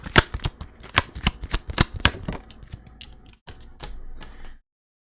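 Tarot cards riffled and shuffled close up during a reading, a quick run of crisp flicks and slaps followed by a softer rustle as a card is drawn, then silence.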